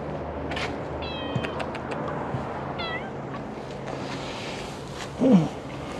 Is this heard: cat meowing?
yes